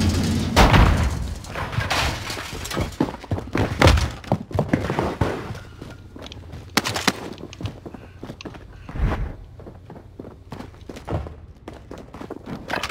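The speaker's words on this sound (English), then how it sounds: "Throwing grenade." A frag grenade goes off in a shooting video game with a heavy boom, followed by scattered thuds and thumps at moderate loudness and little talk over it.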